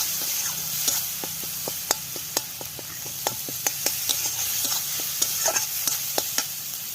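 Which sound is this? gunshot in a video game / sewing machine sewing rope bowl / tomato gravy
tomato gravy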